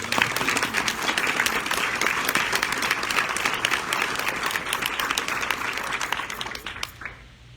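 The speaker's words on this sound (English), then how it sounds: "Let's give them a round of applause." An audience at a community annual meeting gives a round of applause, steady dense clapping from many hands that fades out near the end.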